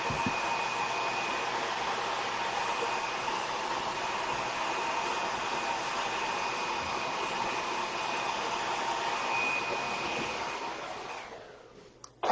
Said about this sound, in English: But first I'm going to dry it. Sorry, more hair dryer.